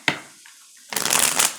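Tarot cards are shuffled with a sharp snap followed by a dense, riffling burst lasting under a second, close and clear with no talking.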